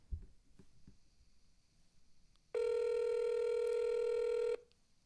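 A telephone ringback tone on an outgoing late-night call, one steady two-second ring burst rising out of faint background murmur and then cutting off.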